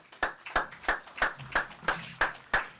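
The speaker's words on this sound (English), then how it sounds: "a round of applause" At a fishing tournament weigh-in on stage, about eight slow, evenly spaced hand claps ring out crisply and fairly quietly, sounding more like a few people clapping than a full crowd.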